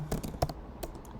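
Close, crisp clicks of fingers typing on a computer keyboard during programming, a short quick burst of a few keystrokes with brief gaps and no talking.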